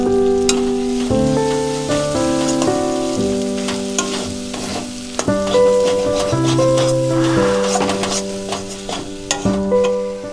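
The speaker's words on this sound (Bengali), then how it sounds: "মশলাগুলো সব ভাজা ভাজা হয়ে গেছে" Cumin paste, black pepper, Kashmiri chili powder and turmeric fry in a pan for chana masala, a steady close sizzle with stirring that carries under continuous background music.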